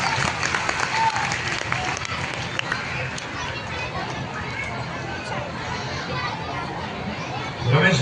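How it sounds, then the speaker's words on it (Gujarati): Dense crowd applause at a wedding ceremony held during a Bhagavat saptah gathering, steady and fairly loud throughout, with chatter and children's voices mixed in and a swell of clapping at the end. "વધાવો તાળીઓથી સાહેબ."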